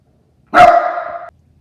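A single loud dog bark close by, one sharp yap trailing into a short held cry of under a second, with quiet before and after.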